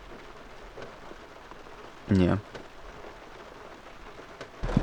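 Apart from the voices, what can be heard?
heavy rain on a tent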